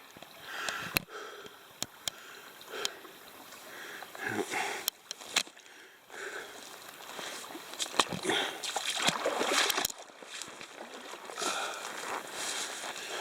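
Water splashing and sloshing as a hunter wades across a stream in LL Bean 16-inch hunting boots, with irregular steps and splatters over a rushing stream and heavy breathing.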